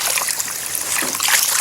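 Water pouring into a masonry mortar mix, a close, bright splashing trickle that continues steadily for a moment without any talk.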